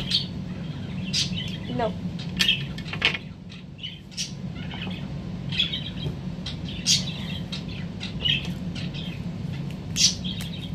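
Pet birds chirp and tweet repeatedly in short, sharp bursts, fairly close, over a steady low indoor hum, with a brief spoken word among them.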